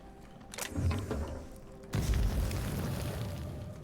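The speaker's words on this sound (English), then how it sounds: "they explode when you bump into them" Explosions in The Outer Worlds: a muffled boom near the start, then a heavier, louder blast that rumbles and fades over the following seconds.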